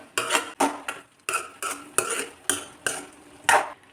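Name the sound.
sautéing banana stem in oil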